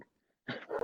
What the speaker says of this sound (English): I'm sorry about my dog's barking.